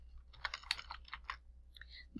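Keys clatter on a computer keyboard as a title is typed into a word processor, a quick run of light, close clicks, slightly irregular in rhythm, heard on their own without talk.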